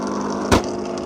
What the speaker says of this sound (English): What you're hearing is a couple pumps kicking on, and you're also hearing the dirty water pump kick on